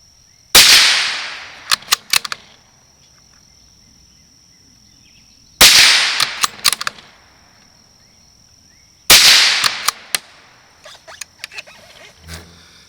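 A Savage 93 rifle in .17 HMR fires three loud, sharp shots several seconds apart, each trailed by a few quick metallic pings and rattles from the steel target; a steady high whine runs underneath.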